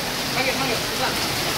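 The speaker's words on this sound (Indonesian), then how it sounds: "Hujan deras" Heavy rain pours down steadily at a mountain campsite, a dense, even hiss of water filling the whole stretch without pause.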